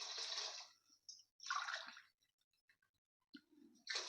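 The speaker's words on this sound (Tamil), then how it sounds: "4 டம்ளர் தண்ணி ஊற்றிட்டேன்." Water splashes and pours in short bursts with pauses between, close by and fairly quiet, as four tumblers of water go into a pot for prawn biryani.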